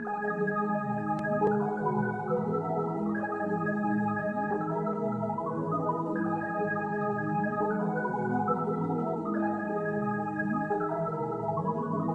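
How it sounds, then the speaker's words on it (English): A continuous Orbit synth arpeggio cycling quickly through rising and falling notes, layered and steady, with a repeating pattern throughout. "I got this Orbit arpeggio sound"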